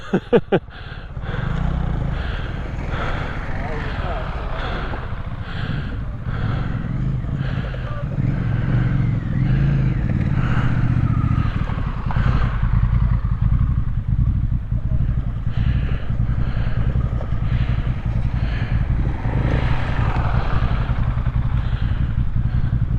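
A big 1190 motorcycle on near-road tyres is ridden over slippery rocks at a Yorkshire Dales trail event, its engine revving and labouring unevenly at close range with clattering, while people talk.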